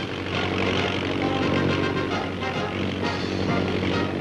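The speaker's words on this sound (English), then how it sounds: "it goes spinning along the highway with a pusher airplane propeller doing the pushing" An early flying car runs along a highway at up to 50 mph, pushed by a rear-mounted pusher airplane propeller, producing a steady droning buzz with a layered engine tone, loud and continuous with a slight swell midway.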